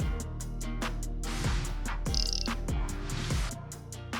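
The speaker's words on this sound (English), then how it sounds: "the tensioner pulley within these motors are known to wear a bit and cause a chirping noise" A worn tensioner pulley on a 2000–2005 seventh-generation Toyota Celica engine makes quick, high, regular chirps repeating several times a second over a low engine hum.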